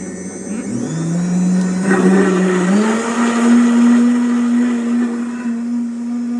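A JTC OmniBlend TM-900 high-power professional blender with a 1.5 L jar runs loudly and close, its motor whine stepping up in pitch as it spins up, then holding a steady high hum.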